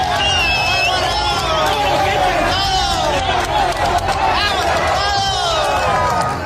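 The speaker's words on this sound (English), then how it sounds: "The onlookers erupt in joy, shouting Sinaloa as the armed group," A roadside crowd cheers and shouts loudly and continuously as an armed convoy passes along the Pan-American Highway, with whistles and excited voices packed together throughout.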